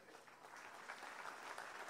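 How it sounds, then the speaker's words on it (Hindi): An audience applauds during a political speech by Amit Shah in Pune, a dense, steady wash of clapping from a large crowd lasting the full two seconds with no voices over it. "बजा ली तालियां।"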